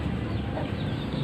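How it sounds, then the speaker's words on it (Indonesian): A sick chicken makes a loud, close, rough snoring respiratory sound in a short continuous burst, with no talking. "Kemudian ayam ngorok di sini, ngorok, tapi ngoroknya awet waktu itu di sini"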